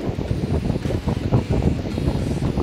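Strong wind buffeting the microphone on a beach at Praia Gravatá in Navegantes, Santa Catarina, a loud continuous rumbling roar with gusty swells and no voices.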